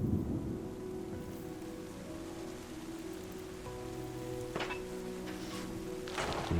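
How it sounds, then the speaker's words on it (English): Steady rain hisses throughout a storm in the video game Terra Nil, with a faint low rumble of thunder and a couple of sharper crackling bursts near the end, no voices. "I can hear a thunderstorm coming"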